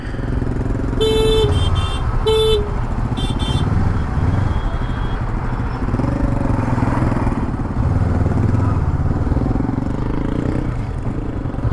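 A Honda NX500 motorcycle threads through slow highway toll-plaza traffic between Nashik and Mumbai, its engine droning steadily under loud road noise while several short car horn toots sound nearby early on and someone talks over it.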